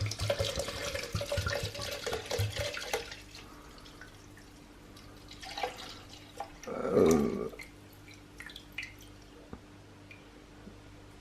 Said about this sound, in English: So just going to pour that in my blender.